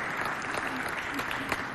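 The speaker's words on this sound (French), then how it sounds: "applaudissez très fort pour Madame la ministre" A crowd at a school-themed festival show applauds steadily for a minister, a continuous wash of clapping at moderate level, with voices mixed in underneath.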